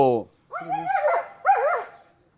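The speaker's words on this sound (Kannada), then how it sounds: "ಡಾಗ್ ಸ್ಕ್ವಾಡ್ ಡ್ರಗ್ಸನ್ನು ಪತ್ತೆ ಹಚ್ತಾ ಇರುವಂಥ ಸಂದರ್ಭ" A police squad dog at work sniffing for drugs in a Bengaluru rave party case gives a few close, high whining yips in two short bursts, with a brief voice at the start.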